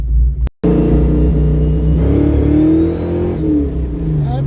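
A Ford Mustang V8 fitted with a QFT Slayer 750 carburetor revs up loudly and close after a brief cut, holding a steady roaring rumble with rising and falling pitch swells.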